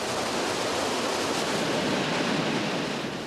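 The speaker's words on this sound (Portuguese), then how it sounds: "Pouco abaixo do Trutário, a primeira cachoeira." Waterfall on the Rio Grande just below a trout farm: a steady, dense roar of falling water filling the whole clip, loud and unbroken, with no voices.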